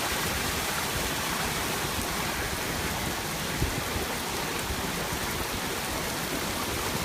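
Heavy rain pours down steadily during street flooding in New Orleans' Mid-City, a dense, constant roar of water with no break and no voices.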